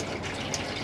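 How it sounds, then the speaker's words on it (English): Pressurised hot water runs from a tap in an Elddis Prestige 196 caravan, fed by the onboard pump: a steady, close, hissing gush that holds level throughout with no talk over it. "And then above, you've got your tap, so as long as the pump's on, you'll have pressurised water."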